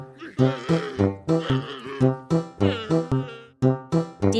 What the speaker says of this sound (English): Correct! It's a camel!